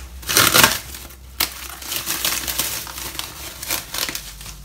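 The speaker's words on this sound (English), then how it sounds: "I remove the plastic wrapper first." A plastic wrapper is pulled off a half cabbage head in a kitchen, making loud, close crinkling and crumpling with an initial burst, a sharp tear and continued rustling.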